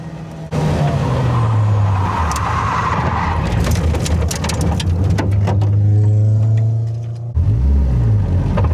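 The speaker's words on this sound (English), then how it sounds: "the tyres got the better of me and I ran out of grip and talent, which resulted in a spin off track." A Caterham R400 on a track day at Bedford spins off the circuit as its tyres lose grip, with a loud, close engine drone, wavering revs and tyre scrub, a brief lull, then renewed revving.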